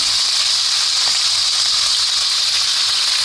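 Marinated roast fries in a pan, a loud steady hiss of sizzling oil that holds constant throughout, close up and with no one talking.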